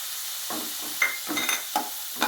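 Grated coconut sautéing in a frying pan with red soya beans, a soft continuous sizzle broken by a few sharp scraping stirs of a spatula at a steady pace.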